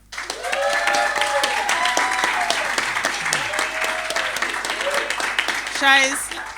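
An audience at a panel discussion in a carpark cinema in Yamba breaks into sustained applause, dense clapping that holds for several seconds while voices carry over it.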